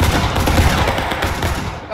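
Massed musket volley fire in the Civil War game War of Rights, Antietam event: a loud, dense roll of overlapping black-powder shots rumbling continuously for a couple of seconds, close and without speech.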